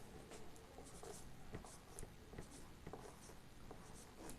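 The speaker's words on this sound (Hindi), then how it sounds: "चलिए, अंतर्मुखी यहाँ लिखते हैं।" Chalk or marker writes on a board in a quiet room, with faint, soft scratchy strokes and small taps in an irregular rhythm and no talk.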